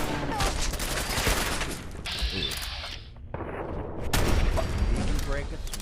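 Gunfire in The Good King game, a dense, noisy stretch of shots and rumbling impacts with a short quieter gap in the middle, followed by more heavy blasts and someone speaking briefly over the action.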